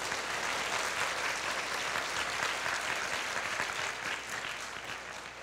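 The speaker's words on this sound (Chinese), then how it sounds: "请给一点掌声。" Crowd of students in a university lecture hall applauding, a dense even roar of clapping hands that holds steady and then eases slightly toward the end.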